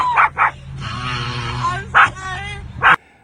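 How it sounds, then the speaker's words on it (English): A dog barks and whimpers while wrestling with another dog: sharp yelping barks in bursts at the start, middle and end, with whiny whimpering and people talking in between. "The dog needs to chill out."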